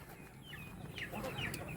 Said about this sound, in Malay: Macam ayam ada.